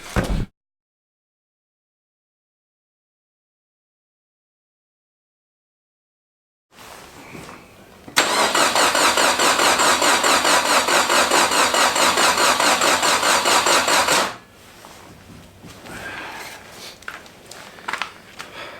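A Datsun convertible engine cranked by a forklift starter fails to catch: brief noise, a long silence, then a loud steady whirring crank for several seconds that stops, followed by faint rattles.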